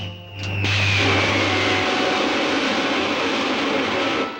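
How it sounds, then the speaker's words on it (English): Rocket ship pilot jets from a 1952 science-fiction serial fire with a sharp ignition burst. A loud, steady roaring rush follows and holds for several seconds, while a low hum fades out partway through. "Fire pilot jets."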